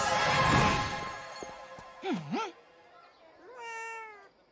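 A cartoon cat meows twice in the French-dubbed animated series Magic, la famille féerique: a wavering, drawn-out meow after a noisy magical flourish, then a shorter, fainter meow that fades out.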